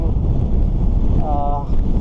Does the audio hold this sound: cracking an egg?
no